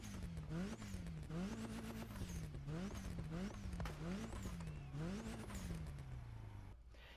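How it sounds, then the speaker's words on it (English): A Honda Civic Type R in The Crew Motorfest racing game revs hard through repeated rising gear pulls, each climb cut by a quick shift. The engine note is loud and sustained, ending with a drop-off. "we have to take a listen to this engine and see how it sounds"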